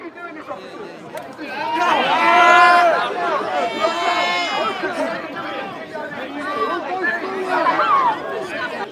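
A crowd of people approaches with a swelling hubbub of many overlapping voices, growing louder and busier, then staying close and agitated around the listener.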